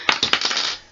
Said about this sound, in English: Just broke the seal